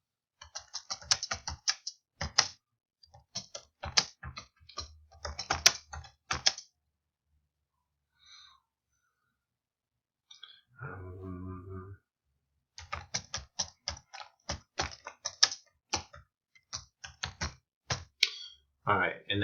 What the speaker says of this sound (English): And then I could click here and just start typing.